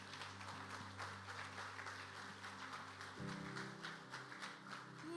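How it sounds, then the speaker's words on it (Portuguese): A church congregation claps together in a sustained patter of applause, with soft held keyboard or organ tones underneath and a shift in the music partway through. "Você pode aplaudir Jesus por isso"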